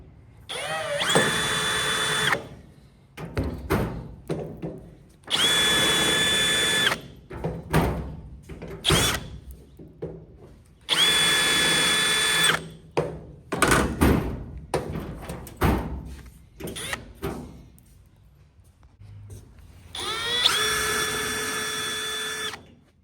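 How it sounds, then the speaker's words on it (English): A power drill bores out a truck door hinge in loud whining bursts of a few seconds each, four main runs separated by clanks, knocks and short pauses, close up. "This is the last door hinge that I need to drill out."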